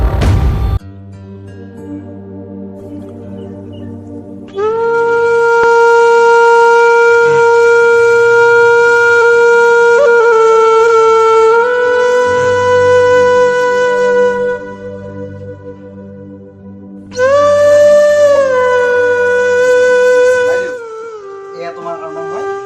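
An ambulance siren in a tense domestic scene, a loud steady wailing tone holding long sustained notes with pitch shifts, sounding in two stretches with a brief quieter gap between.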